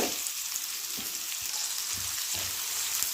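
Onions sizzling in a hot pan for egg gravy, a steady broadband hiss of frying with occasional stirring knocks, close and continuous with no talking.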